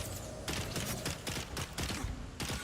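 Rapid gunfire in the video game Dune Awakening, a dense fusillade of repeated shots in quick bursts, steady and fairly loud throughout.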